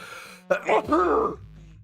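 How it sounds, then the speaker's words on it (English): A single sneeze: a sharp breathy intake that breaks into a voiced burst, close and fairly loud, then quiet. "I'm gonna sneeze, chat. Watch out."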